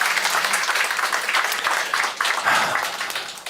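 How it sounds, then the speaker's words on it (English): A room full of people applauding steadily, dense clapping that swells and holds for a few seconds before tapering off. "A round of applause to Linda."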